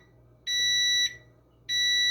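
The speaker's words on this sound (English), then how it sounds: "We're going to set the timer for 35 minutes" An oven timer beeps in a home kitchen while brownies bake, giving two clear high-pitched electronic beeps, each about half a second long, with a short gap between them in an otherwise quiet room.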